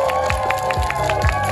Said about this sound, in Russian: Ваша аплодисменты, Алене.